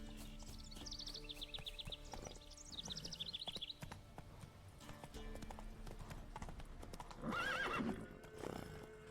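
Roach, a horse in The Witcher 3 video game, gallops with rapid rhythmic hoof clip-clops and whinnies sharply near the end, with faint bird calls in the background.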